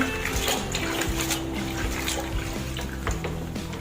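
Fresh string beans being washed by hand in a basin of water: continuous splashing, sloshing and dripping close by, with low clunks of the beans and container and no speech.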